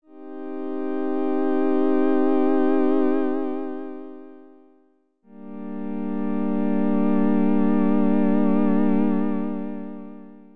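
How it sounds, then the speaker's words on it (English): A sustained synth pad from Padshop 2 plays as two long held chords with a short gap between them. Mod-wheel vibrato makes the harmonics waver steadily. The sound is loud and washed in effects, and no voice is heard. "Then when I activate the mod wheel, I can hear the vibrato."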